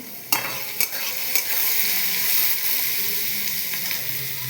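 Potato pieces frying in hot oil for pasta give off a steady close sizzle, broken by a few sharp scrapes and clacks of a spatula stirring the pan.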